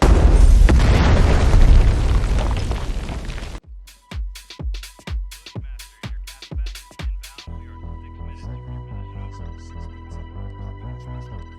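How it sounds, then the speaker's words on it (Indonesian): A Claymore mine blows up a building in a war film: a single loud, roaring blast fills the first few seconds, then fades into a run of sharp, evenly spaced thumps and steady background music. "Sam sedang menyiapkan bom ranjau untuk meledakkan gedung yang ada di sebelah mereka"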